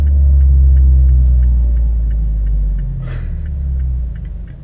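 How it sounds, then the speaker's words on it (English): A heavy haul truck's engine downshifts through the gears, a deep, loud, steady rumble close by that dips and swells slightly as the gears change, with no talking. "Brake, left signal, RPM 2000, downshifting to 2, 1."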